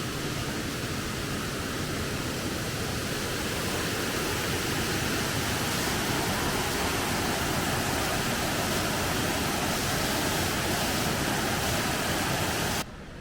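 Steady, dense roar of falling water at Mungalli Falls, a World Heritage listed waterfall in Queensland, heard close and unbroken for the whole stretch, with no voices over it.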